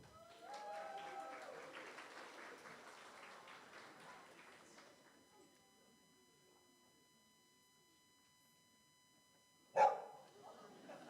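Crowd applause fades out, then after a quiet pause a single sharp dog bark rings out.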